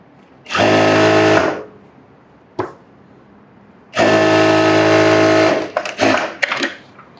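A sewing machine stitches two linings together in two long, loud, steady runs of rapid whirring, separated by a short pause and followed by a few brief bursts.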